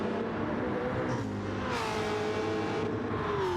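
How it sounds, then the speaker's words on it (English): A Dodge V8 Supercar screams flat out through the S's at Watkins Glen, its engine note holding a steady high pitch and climbing, with other cars close by, loud and continuous. "I love to listen to that Dodge every single time through there. And it just sounds fantastic."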